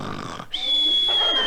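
A male actor in an old-time radio comedy imitates snoring and whistling with his voice, a brief grunting snort that slides into a sustained high whistle, following a moment of spoken dialogue.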